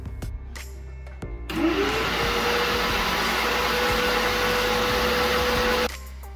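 A Bissell SpotClean C2 portable carpet cleaner's loud, steady motor whine starts suddenly, runs evenly for about four seconds with a constant hum, then cuts off abruptly.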